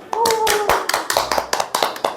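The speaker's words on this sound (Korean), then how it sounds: "박수 칠까요?" Hands clap in quick, uneven strikes after a musical review, close and crisp, with a voice and talk briefly over them.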